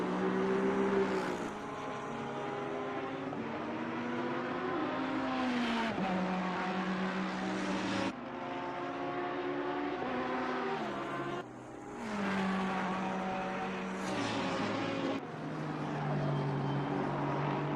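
A Ferrari race car in a sim racing game laps Suzuka, its engine wailing steadily through the gears with rising pitch sweeps and downshifts, continuous and fairly faint, heard alone.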